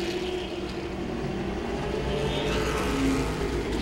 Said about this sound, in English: And now Casey on the high side of the seven of Michael Harden